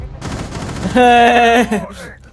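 Rapid automatic gunfire in the Rainbow Six Siege video game, a dense burst of shots followed by a brief sustained tonal sound, loud and close.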